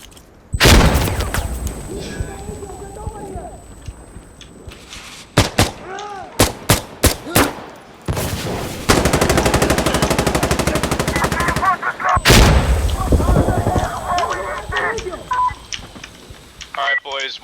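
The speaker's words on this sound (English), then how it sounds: "Rounds fired." Bursts of automatic gunfire and single shots from the Insurgency Sandstorm video game, loud and close, arriving in rapid volleys between pauses, with players talking over the fighting.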